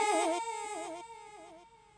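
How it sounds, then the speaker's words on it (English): A ping pong delay effect with high feedback repeats a short tonal phrase several times, each echo quieter than the last and fading out over about two seconds. "we're gonna get something a little bit closer to a classic ping pong delay."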